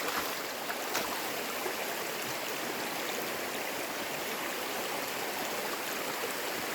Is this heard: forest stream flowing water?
yes